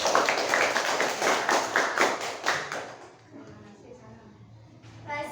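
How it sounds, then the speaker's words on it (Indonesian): A classroom group gives a round of applause for the first discussion group in a teacher-training lesson. Brisk, close clapping fills the first three seconds, then fades as a voice speaks. "kasih tepuk tangan untuk kelompok 1"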